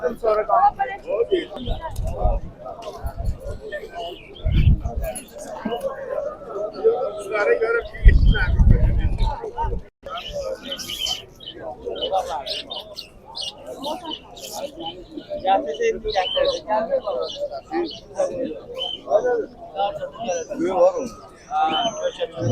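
Pigeons coo and birds chirp amid a busy crowd at the Sabunchu bird market in Azerbaijan, with people talking throughout and occasional low thumps close by.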